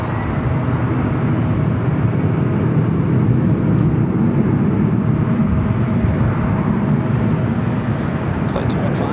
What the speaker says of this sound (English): Flight 215 coming in from Dubai, the A380 Super heading toward us here on the north side.